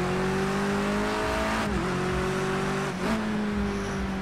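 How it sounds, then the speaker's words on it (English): Front-wheel-drive Vauxhall Astra touring cars racing on a wet Bull Ring circuit in Project Cars 2, loud sustained engine drone with brief dips as gears shift, close and continuous. "The front wheel drive Astra struggling there."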